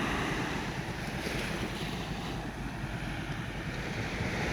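Morning waves roll onto the beach at Cha-am with a steady, broad wash of surf and wind buffeting the microphone, continuous and fairly close, with no voices.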